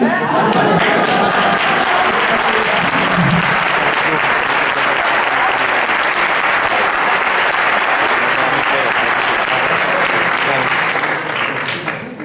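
Loud, sustained applause from a large crowd honouring a horse rider, with dense, even clapping for about twelve seconds that tapers at the end, and murmured crowd chatter underneath.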